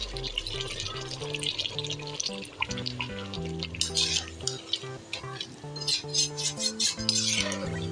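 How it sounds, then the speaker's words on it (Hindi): Water is poured into a pot of cooked red chickpeas to make broth, with splashing, trickling and metal clinks of the pot close by and no talking. "मैंने शोरबे के लिए इसके अंदर थोड़ा सा पानी डालूंगी।"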